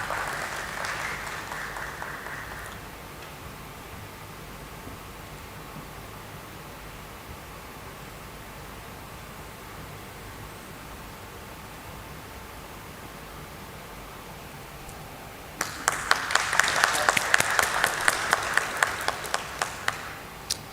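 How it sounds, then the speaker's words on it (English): Audience applause at a stock exchange listing ceremony for a forging company: a short burst of clapping at the start, a long quiet room, then a louder swell of clapping near the end. "A round of applause, please."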